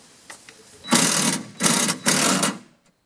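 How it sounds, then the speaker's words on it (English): Three bursts of a power screwdriver driving screws into the rear door of a Ford Super Cab pickup, each lasting about half a second and separated by short pauses, heard close and loud with no talk. "I'm just going to put the screws in"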